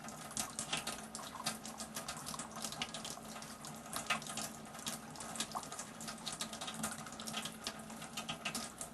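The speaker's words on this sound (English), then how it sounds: "we'll fill it up with the water from the Tyent unit" Water from a Tyent alkaline water ionizer pouring steadily into a glass, a continuous close splashing rush with no talk over it.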